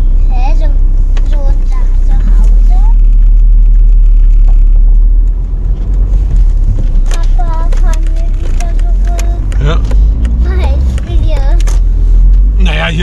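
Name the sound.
car driving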